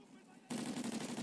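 Rapid automatic gunfire from Call of Duty Ghosts bursts in suddenly halfway through, a dense fast rattle of shots above a quiet background hum.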